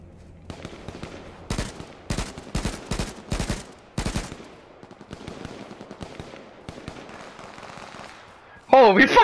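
Rounds of gunfire in an H1Z1 battle royale fight, a cluster of sharp close shots followed by scattered fainter distant pops, with someone speaking over part of it.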